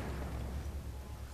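Grenade blast in the Battlefield 3 video game, a deep sustained rumbling boom with a heavy low roar that fills the clip, with no talk over it.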